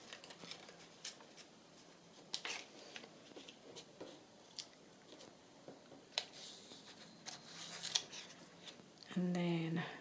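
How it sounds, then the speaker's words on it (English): Scissors snipping paper at close range in a quiet room, a string of sharp irregular cuts with soft rustling between them and a louder crisp cut near the end. "where's me scissors, just kind of miter this a little bit here"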